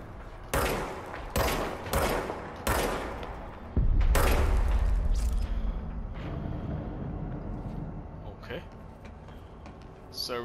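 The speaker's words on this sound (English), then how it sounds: "Fire the gun." Service-weapon shots from the Control video game on PS5: five or six sharp, loud reports at uneven intervals, then a heavy boom that rolls into a sustained roar and rumble that slowly fades.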